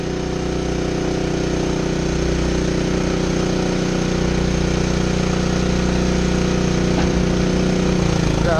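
The hydraulic jib of a CAM-CONCEPT hook lift trailer carrying a 20-yard dumpster operates under a loud, steady engine drone with a continuous mechanical rumble and hum throughout, close by and with no talk.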